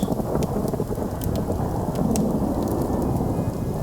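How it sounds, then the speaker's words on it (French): A thunderstorm sound effect: steady heavy rain hisses throughout, with scattered crackling drops and a low rumbling underneath. No voices are heard. "Et des éclairs viennent zébrer le ciel au-dessus de Dunwich."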